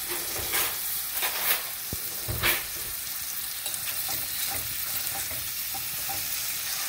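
Maitake mushrooms frying in hot oil in a pan, a steady soft sizzle with a few scraping stirs and clanks, close and alone with no talk.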